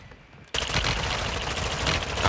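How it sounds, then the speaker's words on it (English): Mortar strike explosions in the video game Warzone 2 hit after a brief quiet moment, becoming a sudden, loud, dense barrage of blasts that keeps rumbling to the end. "Hostile mortar strike incoming."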